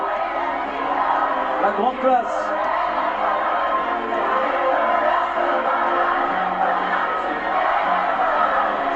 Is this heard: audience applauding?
yes